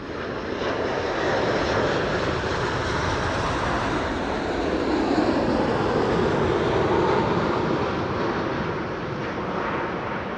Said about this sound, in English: This is KLM flight 682 78710, a Dreamliner arrival from Vancouver, Canada.